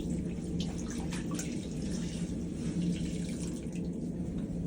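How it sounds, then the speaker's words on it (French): Water running and splashing in a cruise cabin sink as laundry is hand-washed, a steady close gurgle with small sloshes and drips, no voices. "Je le mets dans l'évier. Je fous de l'eau un peu partout."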